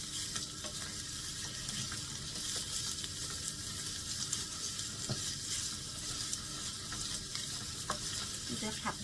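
Salted pickled cabbage stir-fried with egg in a pan, a steady close sizzle and crackle of frying with scraping stirs throughout, no voices.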